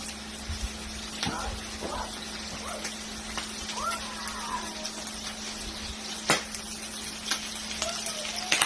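A Mississippi pot roast sizzles and pops in a pan, with a soft continuous fry punctuated by sharp scattered pops and a steady low hum in the background.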